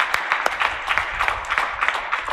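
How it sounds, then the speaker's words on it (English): A symposium audience applauds with dense, steady clapping at a loud, fairly close level, lasting a couple of seconds with no pauses. "So I think a big round of applause."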